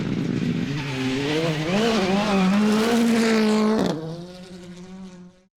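A rally car is driven hard on a stage, its engine loud and close, revs climbing and falling between gear changes before the sound drops away and fades out.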